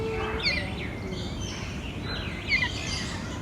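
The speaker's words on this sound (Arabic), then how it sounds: "all the birds are here" Birds calling at Singapore's bird park, with scattered high chirps and short tweets repeating over a steady, low background murmur of the aviary.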